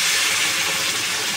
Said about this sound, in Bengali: পরিমাণ মতন গরম জল দিয়ে দেবো